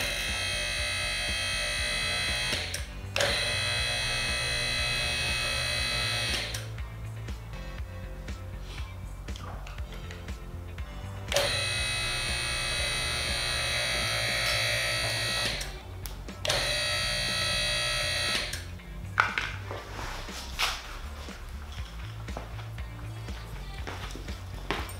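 The electric pump motor of a QuickJack 7000 car lift runs in a loud, buzzing, harmonic-rich hum. It starts and stops in several runs of a few seconds each, separated by short pauses and clicks.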